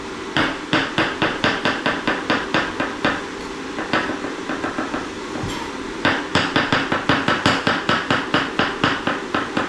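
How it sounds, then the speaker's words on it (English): A knife slices button mushrooms on a chopping board in quick, even strokes, a steady run of crisp taps with a brief lighter patch midway before the rhythm picks back up. "It's got a few button mushrooms which we'll just slice."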